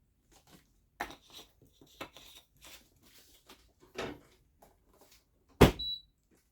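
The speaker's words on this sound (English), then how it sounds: "Close the door." A portable RV dishwasher door swings shut with a single solid thunk near the end, following quieter handling knocks and clatters while detergent is loaded, heard close up with no talking.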